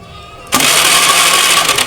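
Motorcycle engine cranked with the electric starter during a spark plug and coil check, a sudden loud broadband whir bursting in after a half-second pause and running steadily to the end.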